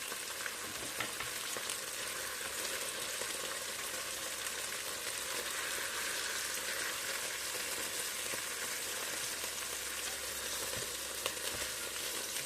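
Turkey pieces for osso bucco fry in a pan, giving a steady, even sizzle and crackle with occasional stirring, quiet and close with no voices.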